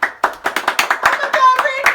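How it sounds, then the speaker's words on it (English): A small group claps at a casual amateur news broadcast, about two seconds of close, distinct, slightly uneven hand claps with individual strikes clearly separated. "Can we have a round of applause?"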